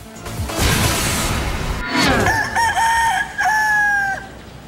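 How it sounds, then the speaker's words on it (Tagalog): After a stretch of noisy rustling, a rooster crows loudly nearby, a long drawn-out call with a rising then sustained tone. "Ang pagtilawak ng manok nito"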